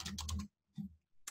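Typing on a computer keyboard while setting up an online course assignment: a fast burst of close key clicks, a pause, then a few more scattered keystrokes, quiet and alone.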